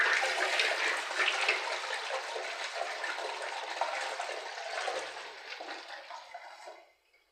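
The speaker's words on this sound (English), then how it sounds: "water closet is very good." A water closet toilet flushes in a newly plumbed apartment in Ghana, a steady, full rushing of water for about six seconds that tapers off and falls silent.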